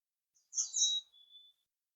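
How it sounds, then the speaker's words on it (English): Birds chirping outdoors, a couple of short high tweets and a brief trailing whistle in quick succession, faint and isolated against silence. "the birds are just going, it's like they're singing to me here"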